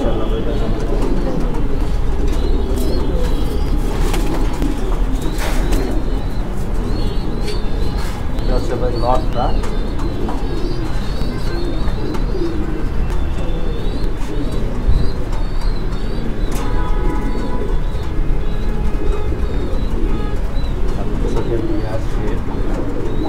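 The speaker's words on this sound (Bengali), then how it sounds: "অ্যালমন্ড ডেনিশ রিং এর কবুতর" Almond Danish pigeons with European rings cooing in a busy loft, continuous overlapping coos and chirps close by, under ongoing conversation and a constant background rumble.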